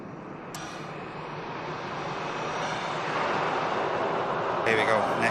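A Ryanair Boeing 737 jet on its takeoff roll at Manchester Airport gives a broad, distant roar that builds steadily, heard alone.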